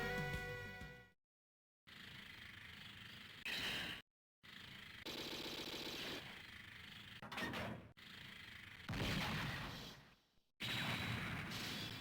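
Neo Geo Metal Slug arcade game intro with loud bursts of gunfire, whooshes and synthetic effects, broken by short silent gaps between dense, busy sections.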